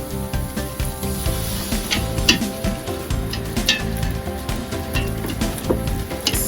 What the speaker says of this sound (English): you want to add a little bit at a time, and kind of like to keep whisking the onion mixtures